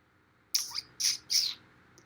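A crow gives three harsh, raspy caws in quick succession, fairly close and alone against a quiet background.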